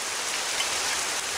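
A steady, even hiss of rain falling and pattering on a surface, constant and close with no other sounds.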